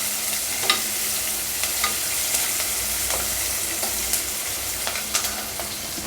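Green chillies sizzling and being stirred in a hot oiled pan for wheat rava upma, a steady loud frying hiss with occasional scraping stir strokes.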